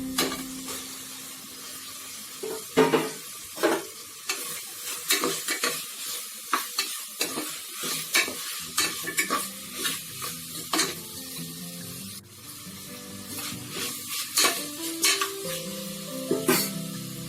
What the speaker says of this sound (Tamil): நல்லா கலரிக்கணும் வெஜிடபிள்ஸ் ஆட் பண்ண போகிறோம்